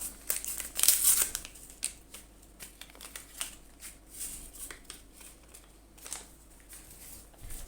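A vanilla sugar sachet is torn open and crinkled up close, a crisp burst of paper tearing and rustling followed by smaller crinkles and taps.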